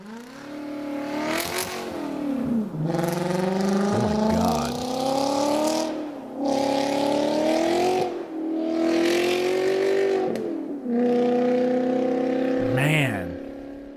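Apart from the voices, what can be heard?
Volkswagen Passat W8 engine revving, played from a video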